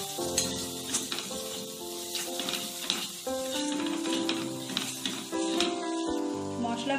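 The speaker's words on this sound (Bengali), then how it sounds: "সব কিছু খুব ভালো করে মিশিয়ে নেব।" Spices and roasted gram flour stirred together in a hot pan for paneer masala, a steady sizzle with repeated spoon scrapes over a sustained tonal background throughout.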